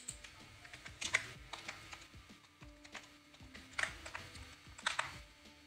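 Typing on a computer keyboard while entering a board name into an IDE search field, with bursts of quick clicking keystrokes alongside faint ticking, close and moderately quiet, with no talking.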